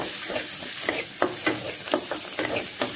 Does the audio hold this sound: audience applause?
no